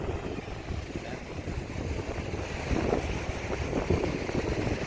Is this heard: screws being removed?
no